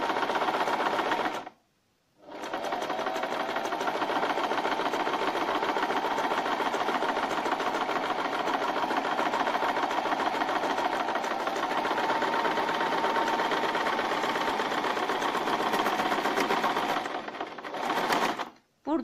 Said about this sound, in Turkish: dikişimi dikmeye başlıyorum